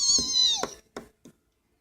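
A cat meows indoors in an apartment: one long, drawn-out, falling meow close by, followed by two short, fainter chirping mews, with no talking over it.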